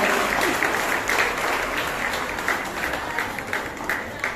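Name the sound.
audience applause at award ceremony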